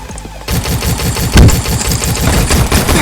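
Rapid gunfire crackles through a video game gunfight, loud and close, in quick repeated bursts with one heavier blast partway through, after a brief quieter lead-in.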